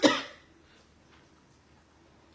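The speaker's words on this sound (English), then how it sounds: "Forgive me, cough coming." A single short cough right at the start, close and fairly loud, followed by near silence with faint room noise.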